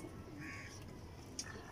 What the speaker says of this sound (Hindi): ये जेन्युइन स्कूल वाले कबूतर हैं